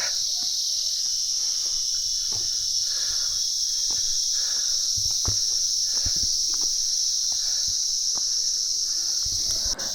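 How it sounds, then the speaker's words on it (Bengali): Continuous, high-pitched chirping of crickets fills the hill forest air near Ichhegaon, Kalimpong, with birds, faint scattered clicks and rustles underneath. "আর ঝিঝি পোকার ডাক"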